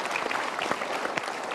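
Brief, fairly soft applause from a seminar audience at a Mario Teguh motivational talk, a quick flurry of many overlapping claps.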